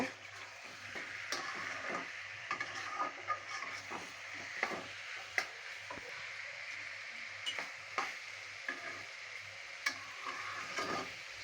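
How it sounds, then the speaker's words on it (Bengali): Marinated chicken for chicken chaap fries in a pan as it is stirred, a soft steady sizzle broken by faint scrapes and light taps of the spoon. "মেরিনেট করা মাংসটা দিয়ে দিলাম এবার আমরা সুন্দরভাবে এটাকে মিক্স করে নেব"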